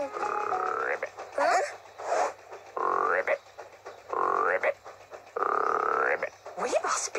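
Frog croaking comes in four long, evenly spaced croaks, with brief higher squeaky calls between them, close and clear against quiet.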